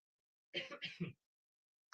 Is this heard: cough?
yes